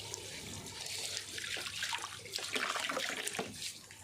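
Water runs from a tap in a steady, moderately faint rushing stream with light splashing, continuing unbroken with no talk.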